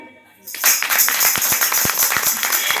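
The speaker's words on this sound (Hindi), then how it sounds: "ताली बजाओ" Audience at a Hindi Ramayana katha recital breaks into clapping after a short quiet lead-in, with loud, dense, irregular claps continuing steadily to the end.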